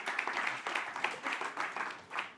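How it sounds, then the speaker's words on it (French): An audience at a talk on low-carbon farming claps for the panel, a fairly faint patter of many hands that swells and eases in small waves, heard on its own. "vous pouvez les applaudir tous les quatre, le temps que Jean-Marc nous rejoigne"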